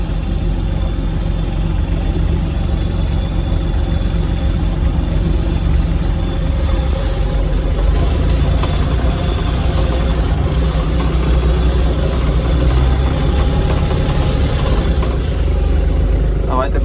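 Kubota KT-24 mini tractor engine runs steadily as the small tractor starts moving, a continuous loud low mechanical drone with no pauses throughout.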